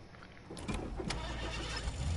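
A truck engine in Fortnite cranks and catches, a short starter whine followed by a low, steady rumble that holds close and fairly loud with no talk over it.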